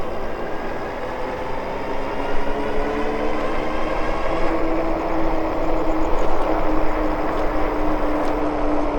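Steady wind roar and rumble while riding a Super73 RX electric bike at night, with a constant broadband rush and a faint motor whine.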